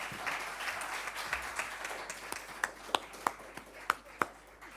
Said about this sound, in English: You will agree with me to applaud this panel.